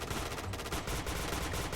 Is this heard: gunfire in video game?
yes